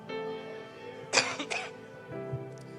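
A sudden cough bursts out amid a low steady background hum, followed moments later by a second, softer cough or throat clearing, then a faint thump near the end.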